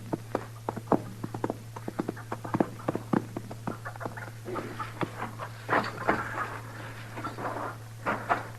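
Horse hooves clip-clopping in a radio drama, a close run of sharp, evenly spaced hoof clops that grows denser and more irregular toward the end, over a steady low hum, no one talking.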